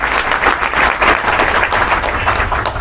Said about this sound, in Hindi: उन महिलाओं के लिए तालियां सम्मानित साथियों।